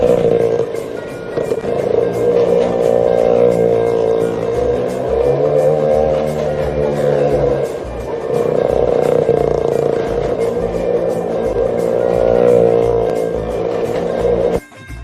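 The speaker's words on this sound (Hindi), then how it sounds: "मौत के कुएं में एक गाड़ी और मोटरसाइकिल।" Car and motorcycle engines roar continuously inside a well of death stunt show at a fair near Amritsar, Punjab, a loud, sustained droning rev that swells and dips in waves as the vehicles circle the wall.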